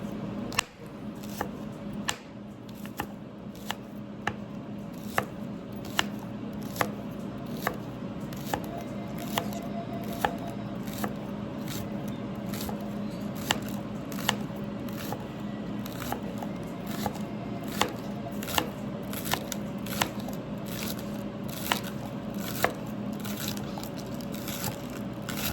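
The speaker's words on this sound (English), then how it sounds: "Now let's just cut these green onion." A knife chops green onions on a cutting board, sharp regular taps repeating at a steady rhythm close by for the whole stretch, with no talk.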